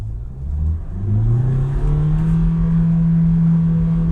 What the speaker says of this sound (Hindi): Goes till 5000 RPM